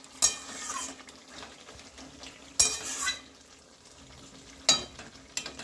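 Chicken kosha cooks slowly in a pan with a soft continuous sizzle, punctuated by three sharp clinks and scrapes of a utensil stirring against the pan.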